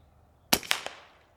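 A single sharp crack from an FX DRS Classic air rifle fired offhand, followed by two quicker fainter snaps as the pellet strikes downrange, loud and close over a quiet background.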